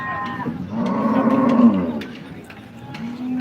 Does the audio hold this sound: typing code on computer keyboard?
no